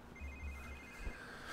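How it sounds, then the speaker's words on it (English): A phone ringing in The Sims 3 video game, a repeated electronic ringtone trill sounding steadily over low background game noise, fairly faint, with no speech. "phone is ringing"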